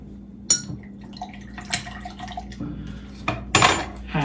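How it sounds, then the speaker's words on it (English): A spoon stirs a white rum and lime cocktail in a glass, giving several sharp clinks and rattles spread unevenly among quieter sloshing and dripping. "Okay, we'll give it a good stir."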